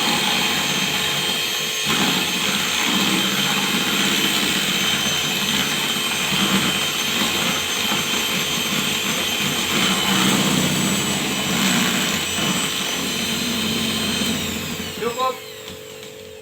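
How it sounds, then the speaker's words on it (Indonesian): An electric hand mixer fitted with a single beater whisks martabak batter, a loud, continuous motor whine close up that runs steadily before slowing and cutting out near the end. "Kita mixer terlebih dahulu"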